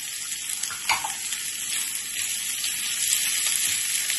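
Onions frying in a pan with ginger-garlic paste for an egg and spinach masala dish make a steady close sizzle, with occasional stirring and spoon scrapes and no talking.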